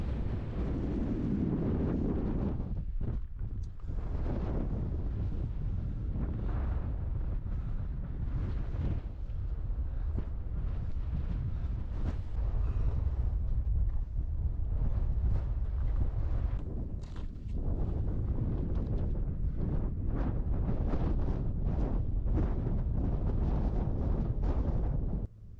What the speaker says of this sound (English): and it is windy, but look at this view